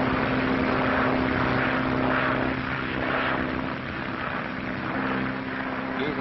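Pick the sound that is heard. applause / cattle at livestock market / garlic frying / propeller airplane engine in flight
propeller airplane engine in flight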